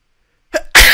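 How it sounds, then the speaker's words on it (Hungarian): A single sharp human sneeze, a short breathy intake followed by a loud explosive burst, heard up close during a casual live stream. "Tüsszentés."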